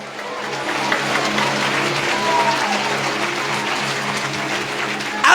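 Church congregation applauding loudly in a sustained wave of clapping that holds steady for several seconds, dense and close, with a louder burst right at the end.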